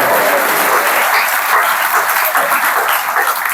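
A church congregation breaks into full, loud applause for Easter greetings, a dense, steady wash of clapping from many hands that holds evenly from start to finish.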